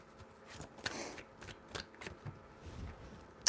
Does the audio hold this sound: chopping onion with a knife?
no